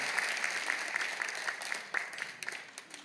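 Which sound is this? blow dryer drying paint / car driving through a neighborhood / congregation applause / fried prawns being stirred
congregation applause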